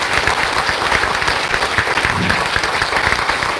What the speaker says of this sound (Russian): Давайте поддержим аплодисментами.